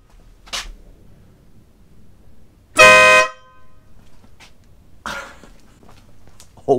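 Denali SoundBomb 130 dB horn fitted on a Harley Davidson Sport Glide, one loud, brassy blast lasting about half a second amid quiet garage surroundings, with faint clicks and shuffling around it.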